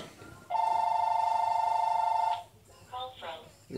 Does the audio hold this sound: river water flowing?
no